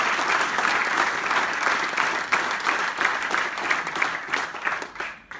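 An audience at a business seminar claps together, a thick, even wash of hand clapping that holds for several seconds and thins slightly toward the end, with no speech over it.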